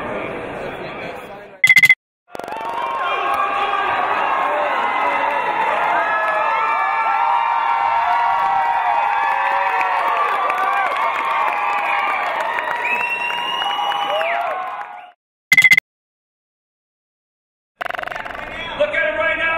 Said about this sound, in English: You can hear them screaming.